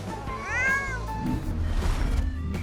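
A cat meows close by in a single rising, wavering call, followed by soft shuffling and munching sounds as it eats crackers.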